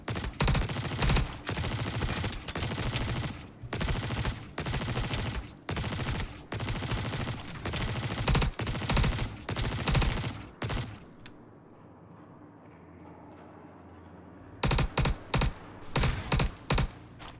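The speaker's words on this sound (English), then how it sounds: "Especially when they started shooting back at me." Rapid bursts of automatic gunfire in the video game Star Citizen, loud and repeated in clustered volleys, then a brief lull before more shots resume.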